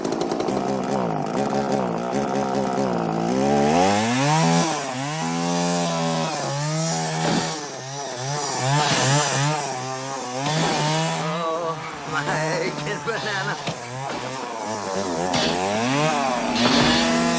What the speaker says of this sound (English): we see him testing the chainsaws out on a log on the outside of the shop